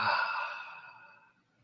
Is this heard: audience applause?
no